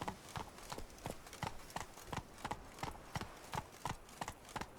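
Hooves of Roach, the horse in The Witcher 3: Wild Hunt, clip-clopping at a steady trot, a crisp, even rhythm of close hoofbeats on firm ground, with faint voices in the background.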